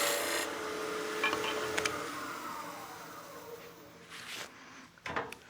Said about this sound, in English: we'll just throw a small chamfer on this piece as well